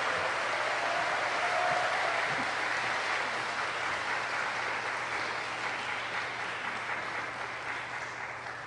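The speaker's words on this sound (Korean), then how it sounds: "여러분 큰 박수로 앞으로 청춘 여러분과 영원히 함께 하실 시장님 큰 박수로 응원 한번 보내주세요." Steady crowd applause for the city mayor at a youth event in Seoul, a dense, even wash of clapping that holds for several seconds and slowly fades slightly toward the end.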